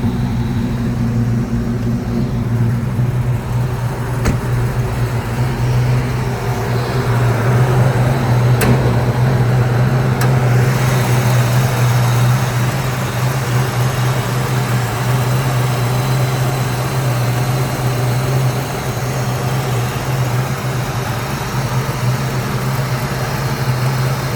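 A 1985 Toyota Land Cruiser with a 350 V8 idles steadily after starting, a loud, even low rumble holding for the whole stretch with no talk over it.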